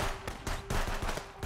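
Sniper rifle shots ring out in a video game hostage rescue, several sharp broadband cracks spaced across a dense, noisy game mix with no talking.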